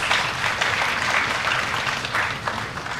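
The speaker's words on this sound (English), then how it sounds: "Please keep giving them a warm round of applause." Audience applause fills a university award ceremony as rank holders are called up, a steady dense wash of clapping throughout, moderately loud and continuous with no break.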